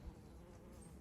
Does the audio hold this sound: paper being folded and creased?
no